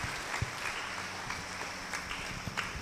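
A church congregation clapping during worship, a fairly faint, distant patter of many hands with irregular sharper claps over a continuous murmur.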